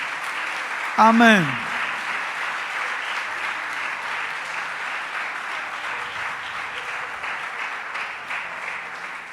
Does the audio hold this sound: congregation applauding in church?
yes